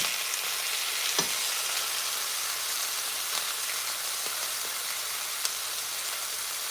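Cubed steaks frying in hot oil in a pan give a steady, close sizzle, broken by a few sharp pops and spits that stand out above the constant crackle.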